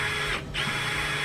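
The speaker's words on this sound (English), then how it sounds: "I'm going to connect it to my drill by bending a 90-degree elbow to stick in the chuck of the drill" A power drill with a bent wire chucked in it spins coil wire to straighten it. A steady, close whirring hum runs with a brief dip in the middle.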